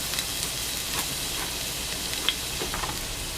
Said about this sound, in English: start cooking my garlic